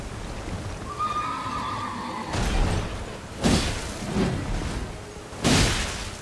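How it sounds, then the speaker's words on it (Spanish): Horse in the game Elden Ring whinnies in a rising call near the start, followed by several bursts of galloping hooves and impacts that come and go over the rest of the clip. "Vuelve el caballo"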